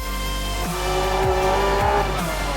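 A Honda NSX GT500 race car with a rear-mounted V6 at full throttle on the Nürburgring in Gran Turismo 7: a loud, steady engine howl with gearshift drops and brief tire squeal, no talking.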